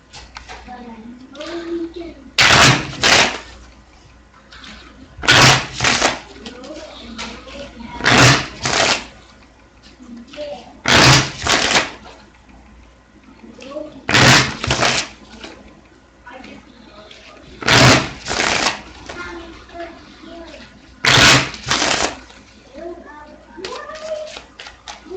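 Poker cards being riffle shuffled, seven crisp bursts of rapid fluttering spaced every few seconds, close and loud, with soft handling and tapping of the deck between each shuffle.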